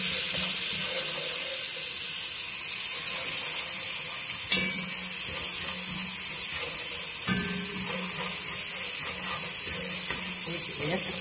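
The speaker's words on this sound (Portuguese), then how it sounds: "Vou dar uma leve dourada aqui nesse alho." Eight garlic cloves with salt and homemade seasoning browning lightly in a pan, giving a steady, dense sizzling hiss throughout with a couple of faint clinks partway through.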